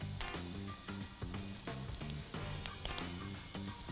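Sliced octopus and whole oysters sear in a pan with a light, hissing sizzle beneath rhythmic background music.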